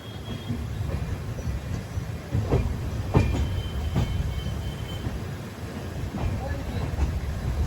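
Kamrup Express passenger train rolling along the rails at a junction diversion, a steady low rumble with faint wheel clatter and a few sharper clanks, heard from on board.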